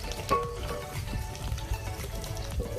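Green aubergine and potato fry in oil in a pan with a steady close sizzle, punctuated by soft clinks and stirring scrapes.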